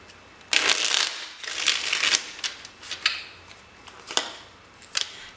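Tarot cards are shuffled close up in several crisp riffling bursts, with rapid flicking strokes and short pauses between them, and no talking.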